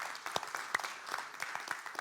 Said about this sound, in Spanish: Yo le daría un aplauso a Cristo, hermano